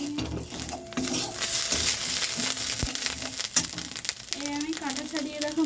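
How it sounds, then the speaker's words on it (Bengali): Spices sizzle and fry in a pan for fish cutlets, a steady close crackle broken by stirring scrapes, with a voice speaking over it. "সব মশলাগুলোকে খুব ভালো করে ভেজে নেব।"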